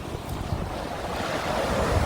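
River water flows at Wangpicheon in a steady broad rushing wash, fairly close and continuous, with no voices.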